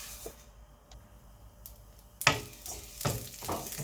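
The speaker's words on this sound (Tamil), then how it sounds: "இதுவும் நல்லா ஃப்ரை ஆகட்டும்." Lentils frying in oil in a pan give a soft, quiet sizzle broken by a few sharp clicks and scrapes, with a louder burst of crackle midway.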